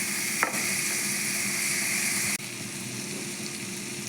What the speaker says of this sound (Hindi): एबे मो टमाटो को भल भाव भाजी।